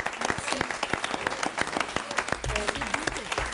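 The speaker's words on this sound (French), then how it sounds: "Double applaudissement" A studio audience at a French TV show, All Star 2012, applauds a twelve-year-old contestant, a lively burst of clapping with distinct sharp hand strikes, with a voice speaking over the second half.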